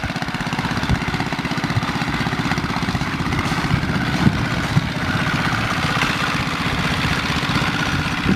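A Briggs & Stratton 2 hp single-cylinder engine fitted to a Baja Dirt Bug runs steadily close by, with a rapid, even putter and a couple of small pops throughout.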